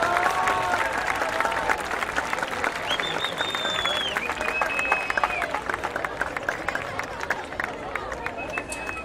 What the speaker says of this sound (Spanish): un gran aplauso para nuestro...